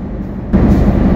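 A train at Jessore railway station in Bangladesh rumbles steadily close by, its low mechanical roar swelling louder halfway through with no voices.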